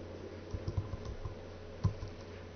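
Someone types on a computer keyboard in a Linux terminal, a few quiet, irregular close clicks and keystrokes over near silence.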